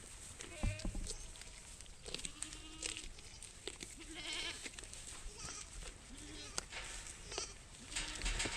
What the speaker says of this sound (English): Come here, goats.